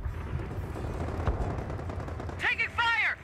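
Gunfire in Company of Heroes, a dense crackle of rifle and machine-gun shots under battle noise, with a shouted voice breaking in near the end.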